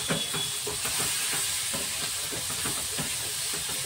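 Tomatoes with salt stirred in a pan for a dhaba-style egg tadka, a steady sizzle under rhythmic scraping strokes of the spoon, close and fairly loud throughout.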